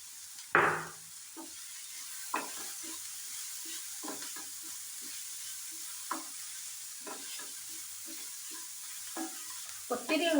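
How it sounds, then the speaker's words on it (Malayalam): Beef cutlet mixture with a pinch of salt is stirred as it fries in a pan, with soft scraping strokes of a spoon at irregular intervals over a quiet, faint sizzle. "ചെറുതായിട്ടൊന്ന് ഇളക്കി കൊടുത്തുകൊണ്ടിരിക്കുക"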